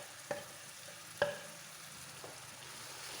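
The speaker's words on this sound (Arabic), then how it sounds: "كنبدا نقلي كلشي، كنبدا نقليه مع داك الميطشه" A spice and tomato mixture for Moroccan beans and zaalouk fries in a pan, a faint steady sizzle broken by two light utensil taps and a soft stir.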